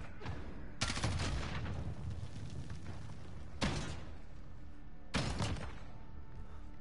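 Three loud gunshot bursts from a video game at spaced intervals, each with a sharp onset and a rumbling decay, the first longest, over a steady low background with no talking.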